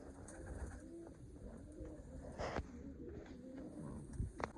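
Large show pigeons cooing at a pigeon show, soft low repeated coos under a faint busy outdoor background, fairly distant and quiet.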